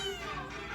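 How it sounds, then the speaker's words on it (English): A cat meows once, a drawn-out, slightly strained cry heard fairly close. "This is the kitty."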